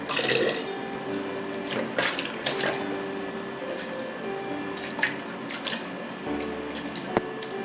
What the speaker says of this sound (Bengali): সেগুলোতে আবার নতুন করে জল ভরলাম